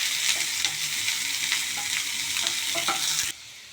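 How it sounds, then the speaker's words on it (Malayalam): Two medium-sized large onions sauté in a hot pan, a dense continuous sizzle with scraping stirs of the spoon, close and loud, easing off sharply near the end. "അപ്പോൾ ഞാൻ ഉള്ളി, ഇതൊരു 2 മീഡിയം സൈസ് വലിയ ഉള്ളിയാണ്, അത് ഇതിലേക്ക് ആഡ് ചെയ്യണം കേട്ടോ. ഇതൊന്ന് നന്നായി സോട്ടാവട്ടെ."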